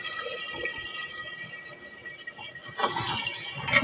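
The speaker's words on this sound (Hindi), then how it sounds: "तो 1 प्याली हम और इसमें डालेंगे पानी की।" Water poured into a pan of semolina halwa with sugar, a steady close gush and splash with a louder burst of sloshing near the end, no talking.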